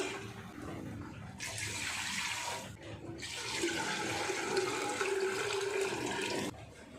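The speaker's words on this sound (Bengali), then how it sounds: "এবার জল দিয়ে দেবো সেদ্ধ হওয়ার জন্য।" Water gushes in a steady rushing stream into a cooking pot on a gas stove to boil dal for khichuri, stopping briefly and then flowing again for several seconds before cutting off.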